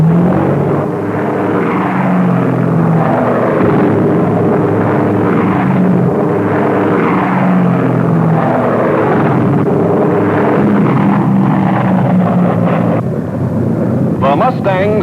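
P-51 Mustang fighter planes diving into aerial combat over Germany in the Second World War, their engines a loud, steady roar that fills the whole stretch, with a brief higher whine near the end.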